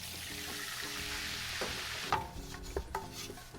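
Butter and flour roux cooking in a pan, a steady soft sizzle that grows busier, with a few utensil clinks and stirring scrapes toward the end.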